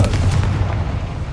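A Confringo fire spell blasts off in Hogwarts Legacy, a loud, dense rumbling burst of booming low energy that fills the whole moment, with no voice over it.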